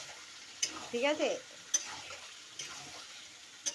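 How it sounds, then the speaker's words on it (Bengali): Potatoes and meat fry in a pan in a home kitchen, a soft continuous sizzle broken by a few stirring scrapes and clinks, with a brief spoken remark near the end. "এই যে আলু ভাজা, ওই যে মাংস কষা হচ্ছে"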